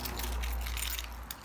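Car keys jangle steadily as they are grabbed up near a Honda Civic EJ9 with a D14 engine, a continuous metallic rattle over low rumble, with a brief sharper jingle near the end.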